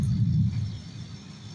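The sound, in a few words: thunder rumbling on a rainy night in Tampa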